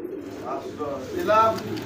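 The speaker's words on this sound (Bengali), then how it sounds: "এটা আপনার গোল্লা, গোল্লা কবুতর, দেশি গোল্লা" Native Golla pigeons, a local Bengali breed kept for sale, give a short soft coo close by over a steady background murmur.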